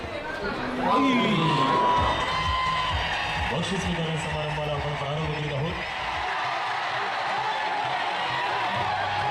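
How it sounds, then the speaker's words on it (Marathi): A football crowd at Shahu Stadium in Kolhapur, a broad steady roar of many voices with cheering, heard beneath a news narrator's talk throughout. "फुटबॉल चाहत्यांनी मोठी गर्दी ही मॅच पाहण्यासाठी केली होती."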